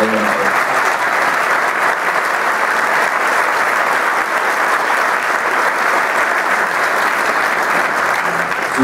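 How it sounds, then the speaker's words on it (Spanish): Sustained audience applause at a tribute ceremony, loud and dense, with continuous clapping from a large crowd filling the whole stretch without letting up. "el aplauso es de verdad de todos nosotros por todos tus trabajos"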